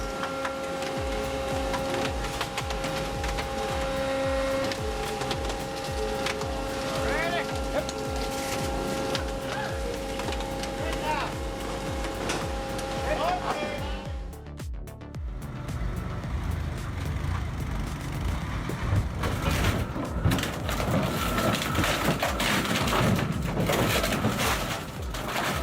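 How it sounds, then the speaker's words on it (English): A twin auger shredder grinds a full wooden crate into splinters, a dense continuous mechanical roar with cracking and crunching, steady droning tones in the first half giving way to heavier, rougher grinding after a brief dip midway. "Hard to believe twin augers can reduce a full wooden crate to splinters in seconds."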